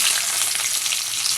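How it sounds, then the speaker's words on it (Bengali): Chopped onion frying in hot oil with a bay leaf, a loud, dense, continuous sizzle close up, no talking. "পেঁয়াজ রসুনটা আমি ভেজে নেব"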